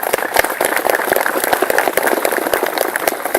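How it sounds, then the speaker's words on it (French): Dense audience applause at a Bastille Day national holiday reception in Antsirabe, many hands clapping steadily and close for the whole stretch, with no one speaking over it. "Je vous demande de les applaudir tout en leur disant grand merci."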